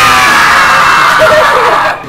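A group of people yelling and screaming together in a loud, sustained burst while queuing at a haunted house attraction, with crowd noise throughout before it cuts off.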